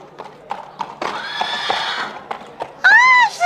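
Toy cavalry horses, lead soldiers among them, clip-clop in a steady run of hoofbeats, then a loud, close whinny rises and falls near the end.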